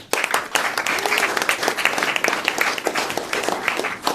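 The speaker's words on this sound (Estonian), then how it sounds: "Teeme aplausi veel kord Saue valla parimatele sporditähtedele." A dense, steady burst of audience applause at a municipal sports stars awards gala, many hands clapping continuously and loudly from start to finish.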